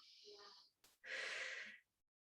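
A deep breath drawn in during a Pilates resistance workout, heard as two close, breathy airflow bursts with a short sharp intake between them, the second longer and stronger before fading to silence.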